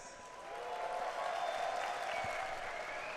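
Crowd at a live gaming event, the GCX main stage, breaking into applause and cheering, a soft swell that rises after half a second and holds steady, heard from some distance.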